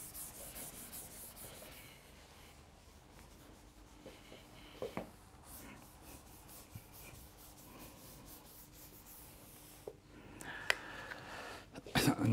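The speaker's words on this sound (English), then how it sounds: "let me erase this." A board is erased during a physics lecture, soft continuous rubbing strokes at low level over several seconds, with a few louder scrapes and knocks near the end, no speech.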